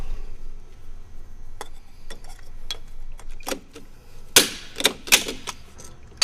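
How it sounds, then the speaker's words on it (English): Pop rivets being set along the seam of a desiccant dehumidifier cassette, a series of light ticks followed by several sharp, loud metallic snaps spaced about half a second apart, no talking. "we'll just pop those rivets"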